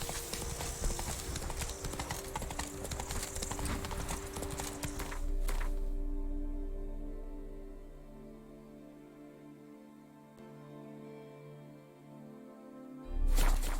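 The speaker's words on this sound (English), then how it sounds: "Whoa there, Roach." The horse Roach in The Witcher 3 gallops with rapid, rhythmic hoofbeats for about five seconds, then slows to a halt with a snort and a sustained low tone, as game music and voices sit faintly underneath.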